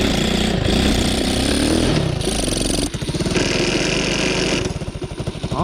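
A Honda CT70 motorcycle engine with clutch trouble running loud and close, its tone shifting between revs and a lumpy, pulsing idle.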